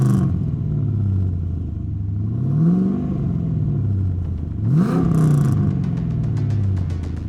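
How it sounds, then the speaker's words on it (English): A 1973 Datsun 240Z fitted with an LS2 V8 idles with a deep lumpy rumble, then revs twice in sharp swelling blips that fall back to idle, loud and close with a clattering tail after the second rev. "accompanied by a rowdy muscle car soundtrack. Let's take a second and take a listen."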